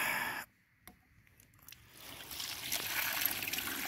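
Water from an off-grid supply flowing and trickling steadily, starting after a brief near-silent gap and building into a continuous close-up rush.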